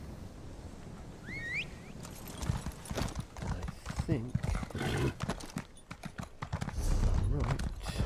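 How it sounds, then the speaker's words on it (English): Horse hooves clip-clopping at a steady trotting rhythm while riding in The Elder Scrolls Online, Morrowind, close and loud, with a brief neigh, someone talking over the steps, and gameplay sound around them. "Okay, we're gonna need to get on the horse."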